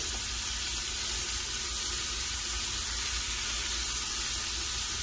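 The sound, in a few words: mushrooms sizzling as they cook in a pan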